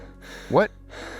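A voice draws in a sharp, strained gasp between stretches of low, breathy speech.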